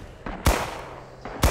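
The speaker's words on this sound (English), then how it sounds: "Alright, artillery's coming in now." Artillery barrage in Rising Storm on Iwo Jima: two heavy, sharp blasts about a second apart, each with a deep thump and crackling tail, with a fainter impact between them.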